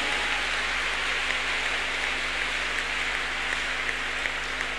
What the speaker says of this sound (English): Clap your hands unto God of the choosing.